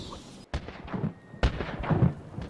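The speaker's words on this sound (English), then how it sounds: "Fireworks." Fireworks bursting in the Batman Arkham Asylum video game: two sharp booming blasts, each trailed by crackling and rumbling echoes, loud and alone.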